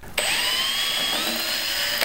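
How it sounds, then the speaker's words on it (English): A power drill pre-drills screw holes in a wooden jig for turning a maple burl pepper mill, one steady high-pitched whine starting abruptly and running about two seconds before cutting off, close and loud. "So I need to pre-drill for the screws here, and there's just two of them,"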